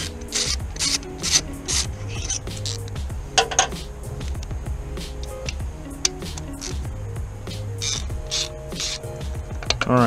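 A hand ratchet clicks rapidly in bursts while backing out intake manifold bolts on a 4.6L DOHC engine, with close metallic ticking, brief pauses and small clinks.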